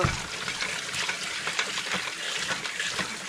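Water runs steadily over an Arai motorcycle helmet as it is rinsed out, a continuous close splashing hiss that holds level throughout with no talking.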